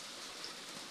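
Steady typhoon rain pouring down as a constant hiss of falling water, with no voices.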